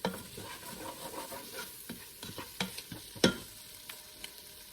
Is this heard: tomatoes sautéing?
yes